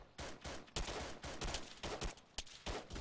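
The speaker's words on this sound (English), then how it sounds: "Oh, that's a big gun." A big gun in a military shooter video game fires repeated heavy bursts, loud and close, in an uneven rapid rhythm with brief gaps between volleys.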